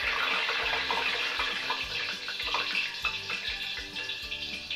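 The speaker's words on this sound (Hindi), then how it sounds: "बस इस तरह छींटे देनी है इस पर।" Water sprinkled by hand during cooking, apparently over hot oil, gives a continuous hissing, splattering wash with small repeated bursts throughout, fairly loud and with no talk.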